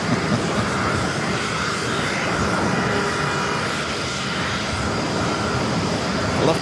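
Cathay Pacific Boeing 777 jet arriving from Hong Kong at JFK, a steady broadband engine roar holding at a fairly constant level throughout, with faint traffic-like rumble mixed in.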